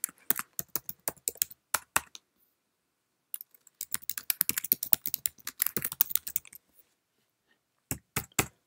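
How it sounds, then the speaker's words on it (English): Text is typed on a Mac keyboard into Google Docs: rapid bursts of crisp, close key clicks in uneven runs, broken by pauses of silence, with no voice over them. "Let's just type in computer science videos."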